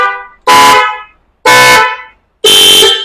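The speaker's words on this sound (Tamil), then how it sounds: "இந்த ஹாரனோட சவுண்ட்ஸ் கேட்டிருப்பீங்க." A loud aftermarket car horn blasts three times in short, evenly spaced bursts, each bright and brassy, close and alone with no talk.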